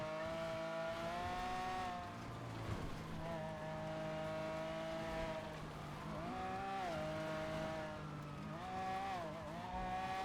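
A car cruising along a freeway in GTA V roleplay on NoPixel, with a steady engine drone whose pitch rises and dips as it shifts and accelerates, close and continuous throughout.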